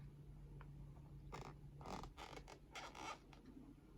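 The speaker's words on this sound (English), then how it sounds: "My yarn is a very tight acrylic yarn, so hence the noises that you're hearing" Tight acrylic yarn creaks and squeaks against a crochet hook as stitches are worked, a run of short, faint, close-up creaks in an otherwise quiet room.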